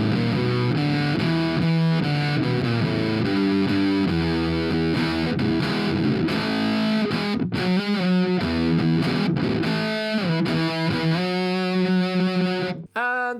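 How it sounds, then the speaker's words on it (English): Electric guitar on the neck pickup through a Behringer Super Fuzz pedal, a thick fuzzy tone playing a continuous riff of sustained notes and chord stabs with brief stops, loud and close with no talking. "Let's hear Fuzz 2 on the neck pickup."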